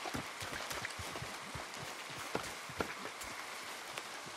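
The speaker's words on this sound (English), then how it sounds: "Come on, it's raining." Steady rain pattering on surfaces in the open-world game Red Dead Redemption 2, a continuous dense hiss with scattered drips and soft thuds, moderately loud with no voices.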